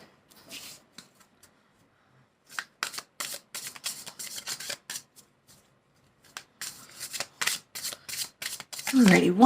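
Tarot cards being spread out across a surface, a series of soft papery slides and flicks in short bursts, close by, with a voice rising briefly at the end.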